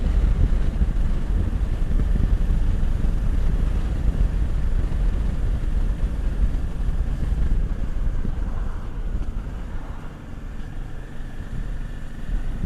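A motorcycle engine drones steadily while riding at speed, recorded from a helmet-mounted camera, a loud continuous low rumble mixed with road and wind noise, with no talking.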